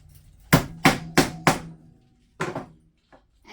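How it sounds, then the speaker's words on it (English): A nail is hammered into a wooden beehive frame with four sharp, evenly spaced close strikes, then a pause and two more quick blows, with quiet gaps between. "you hammer that nail in"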